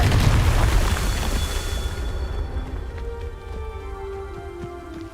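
A Confringo spell explosion in the Hogwarts Legacy video game, a heavy booming blast with rumbling low end that decays into a crackling, ringing tail over several seconds.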